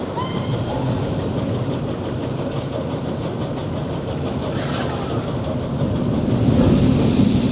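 Eddie Stobart tracked ride at Blackpool Pleasure Beach, with a loud, continuous rumble of a running ride vehicle under wintry outdoor noise that swells slightly toward the end.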